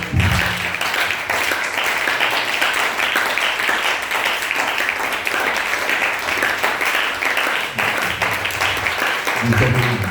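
A church congregation applauds and cheers in praise of the Lord, a dense, steady wash of clapping and voices that holds loud and continuous throughout.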